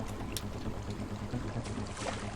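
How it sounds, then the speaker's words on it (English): Steady rushing of a flowing waterfall in the video game Quake, a dense continuous wash of water noise at low level, heard alone with no talk. "Ah, yes, the flowing water of Quake."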